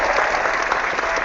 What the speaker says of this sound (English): we will give you a round of applause for that